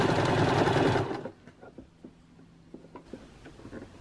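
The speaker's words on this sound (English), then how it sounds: "I'm going to stitch along the edge of the fold" A sewing machine stitches along the folded edge of fabric for an unpaper towel, a brisk steady whir lasting about a second before cutting out, followed by quiet handling and faint clicks.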